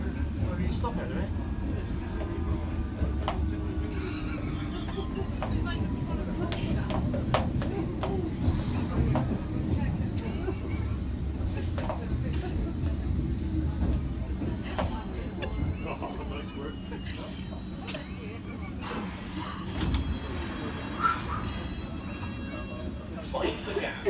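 Muffled, continuous rumble and rattle of a London Underground train at Cannon Street, heard from inside as a steady low roar with scattered clunks and faint squeals.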